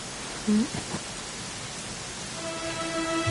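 Steady rain falls in Dragon Quest XI, a broad even hiss that runs throughout, joined by a brief tonal blip early on and faint sustained musical tones toward the end.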